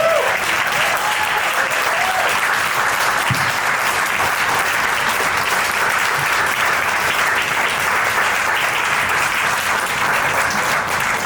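A large brunch audience gathered for a Boston Marathon adaptive panel applauds support runners, with loud, continuous clapping from many people holding steady throughout with no let-up.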